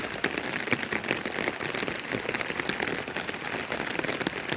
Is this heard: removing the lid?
no